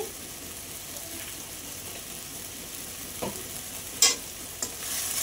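Bhola fish sautéing in a pan with salt and turmeric, a low steady sizzle with a few brief clinks and scrapes of stirring near the end.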